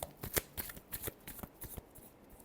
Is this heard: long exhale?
no